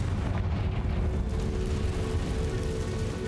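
A Confringo fire spell blast in Hogwarts Legacy gives a loud, continuous, heavy roaring rumble that fills the whole stretch without a distinct single bang, and no voices are heard.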